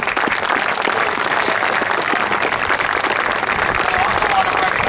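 An audience at a field dedication applauds Turner Construction and Castle Booze, steady crowd clapping at full volume throughout, even and sustained with no pause.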